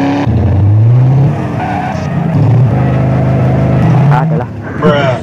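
Nissan Silvia S14 in GTA SAMP spinning its tires in a burnout, a loud close tire squeal over a rising engine note, with a voice talking over it.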